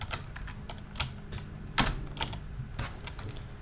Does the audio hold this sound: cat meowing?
no